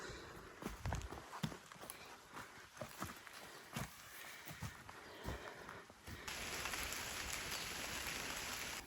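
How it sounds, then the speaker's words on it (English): Rain in an ancient oak and chestnut forest, scattered close drops pattering irregularly at first, then turning into a steady, even hiss of rainfall, fairly faint. "here's the rain."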